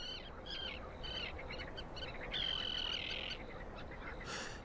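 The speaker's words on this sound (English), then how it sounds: "the sound of prayer is broken by the calls of thousands of birds" Dense chorus of calls from thousands of migratory birds resting at Skadar Lake, a wetland on the Montenegro–Albania border, with overlapping chirps and croaking notes over a steady ambient wash; no talking.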